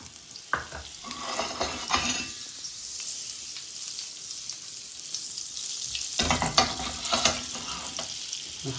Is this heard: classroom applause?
no